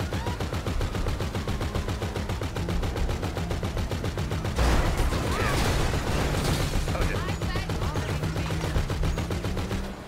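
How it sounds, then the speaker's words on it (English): Rapid, continuous automatic gunfire in GTA V Online, loud and close, rattling steadily for about ten seconds with heavier blasts mixed in midway. "And yet you carry on shooting him."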